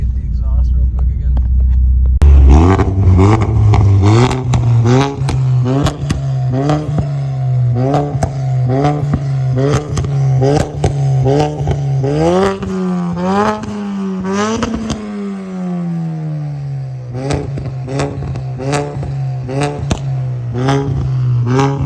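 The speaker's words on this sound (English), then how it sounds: "And we'll get some exhaust notes again." A turbocharged 2016 car engine revs up and down repeatedly in loud bursts, its exhaust rumbling and rising in pitch, close by, with a voice speaking over it.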